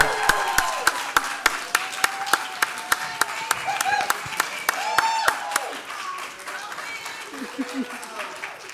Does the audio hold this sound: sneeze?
no